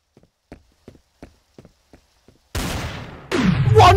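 Gunfire in the online shooter game Trouble in Terrorist Town: six sharp, evenly spaced single shots, followed by a loud burst of heavier blasts and a booming impact with a ringing tail.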